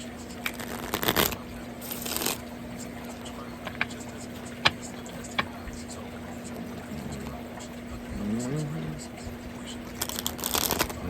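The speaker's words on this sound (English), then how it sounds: "One more shuffle." Tarot cards being shuffled, giving short crisp riffles and flutters in bursts near the start, middle and end, close and moderately loud over a steady background hum.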